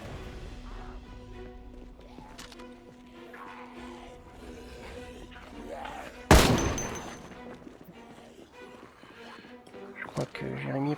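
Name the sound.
shotgun gunfire in the video game Project Zomboid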